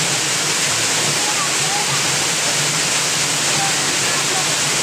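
Water pouring onto a water-driven pulping wheel, a loud, dense, constant rushing roar with no breaks, filling the whole clip close up.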